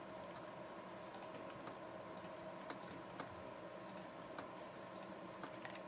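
Quiet, irregular clicking of a computer keyboard as C# code is typed, with short bursts of keystrokes spread across the moment and no speech.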